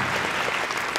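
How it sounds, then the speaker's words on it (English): A conference audience claps in a room, dense loud applause from many hands running steadily throughout with no gaps, no talk over it. "Give yourselves a big round of applause for being here."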